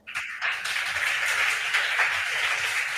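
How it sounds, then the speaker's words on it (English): An audience claps for the contestants at a junior school quiz contest. The applause is sustained, dense and fairly close, starting abruptly and holding steady for a few seconds. "Let's give all of them a round of applause."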